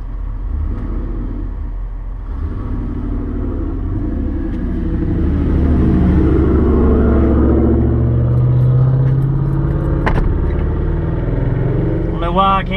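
Turbo LSX-swapped RX7 on a track day with its throttle stuck wide open, a loud, low, sustained engine roar inside the car that holds steady and swells slightly, with people talking over it.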